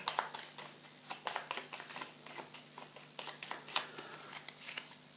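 Cards for the Dawn of the Zeds board game being shuffled together, a fast run of crisp riffling snaps and flutters repeating steadily, close and fairly quiet with no talk.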